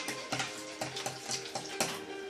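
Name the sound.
stirring chicken cooking in a pan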